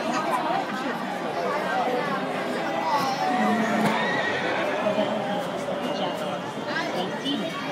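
Horses neigh and whinny repeatedly at a Legoland California jousting ride, with hooves clip-clopping and a crowd chattering underneath, the calls loud and close over busy amusement park hubbub.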